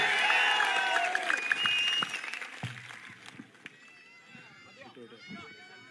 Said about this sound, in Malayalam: വടകരയുടെ കരുത്തുള്ള ഒരു കയ്യടിയോടെ പിഷാരടിയെ നമുക്ക് ഒരിക്കൽ കൂടി വേദിയിലേക്ക് സ്വാഗതം ചെയ്യാം